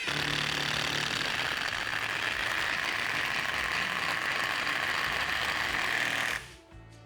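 A Procraft Industrial cordless impact driver runs loud and steady with a dense mechanical hammering rattle, then cuts off abruptly near the end, leaving a faint tail.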